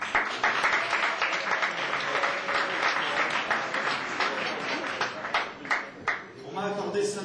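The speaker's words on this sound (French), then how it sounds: "vos applaudissements font chaud au cœur et diminuent mon temps de parole" Warm audience applause for a group of rabbis fills the room, dense clapping that holds steady for several seconds and thins out toward the end, with voices mixed in.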